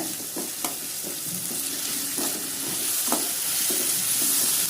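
Ginger garlic paste frying in a pan of oil for lemon rice and mixed vegetable fry, with steady close sizzling and several scraping stirs of a spoon against the pan, no talking.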